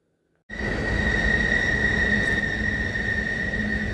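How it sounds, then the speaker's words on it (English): A train screeching on nearby railroad tracks in winter beside rushing Kootenai Falls: a sustained high metallic squeal starts abruptly and holds steady over a loud, broad rumble. "Right now you can hear the screech of the train in the background."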